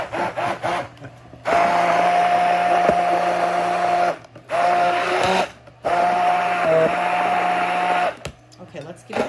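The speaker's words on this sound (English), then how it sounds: "I might have to use the blender." A kitchen blender whirs through gazpacho in three sustained bursts of a few seconds each, with brief pauses between them, loud and steady with a constant motor whine.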